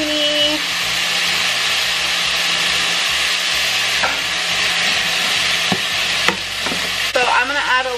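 Broccoli and zucchini stir-frying in a hot pan give a steady, close sizzle, with scraping and clacking from stirring toward the end and no talk.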